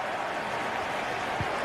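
A FIFA 22 stadium crowd roars as a dense, steady wash of noise, loud and sustained through the brief moment.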